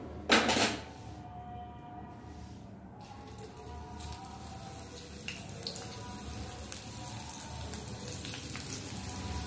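Sliced okra, lady's finger chips, dropped into hot oil, giving a soft steady sizzle and patter after a brief louder splash at the start, continuing quietly throughout.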